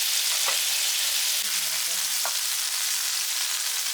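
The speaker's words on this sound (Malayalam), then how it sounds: "ജസ്റ്റ് ഒരു പാൻ ഫ്രൈ, ഷാലോ ഫ്രൈ ചെയ്യാണ് കേട്ടോ ചിക്കൻ. അത് ബട്ടറിലാണ് ചെയ്യുന്നത്." Chicken shallow pan-fries in butter with a steady, close hiss of sizzling and a few faint clicks of utensils against the pan.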